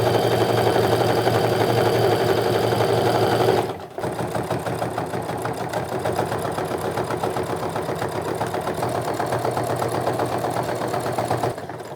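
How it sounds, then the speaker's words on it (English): A sewing machine runs in a fast, steady whir while stitching around the top of a tote bag, close and loud, pausing briefly once before resuming and then stopping near the end. "I'm just going to sew around the entire top of the bag."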